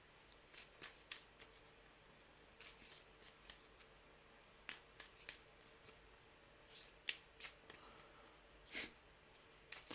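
A deck of trading cards being shuffled by hand produces quick, repeated riffling bursts in irregular clusters, close and fairly quiet, with no talking.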